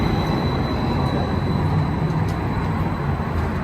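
Detroit's QLine streetcar running on battery power rolls past with a steady, loud rumble and a thin, high electric whine held over it, with no talking.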